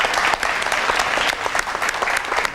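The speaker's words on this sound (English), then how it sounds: "Absolutely. Round of applause." A boxing-club community event audience breaks into a steady round of applause, dense and continuous clapping from a crowd filling the whole moment at close range.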